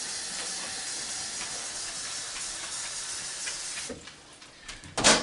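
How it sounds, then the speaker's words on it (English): A steady hiss and hum of a microwave heating about two cups of water, with a few clicks and a sharper clatter near the end. "I'm gonna get my water going in the microwave here."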